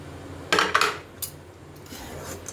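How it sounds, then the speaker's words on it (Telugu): Pre-fried peanuts tipped into a pan of tamarind rice, a quick close rattle and scrape of nuts and spoon against metal, then softer stirring. "మనం ముందుగా వేగించి పెట్టుకున్న పల్లీలు వేసుకుందామండి."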